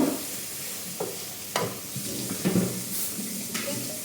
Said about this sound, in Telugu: ప్యాన్ పెట్టుకొని కొద్దిగా ఆనియన్స్ వేసుకోవాలి. ఇవన్నీ ఫ్రై చేసి